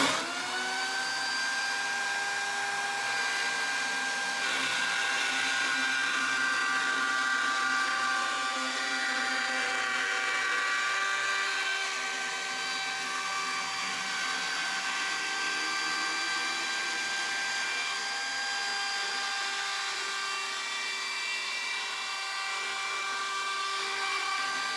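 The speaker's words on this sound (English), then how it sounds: "we're ready to use our little trim router just to put a little bit of a quarter round on this edge here" A small trim router fitted with a 1/8 inch round-over bit cuts along the edge of a reclaimed wood board, giving a steady, loud, high-pitched whine that holds for the full stretch without pause.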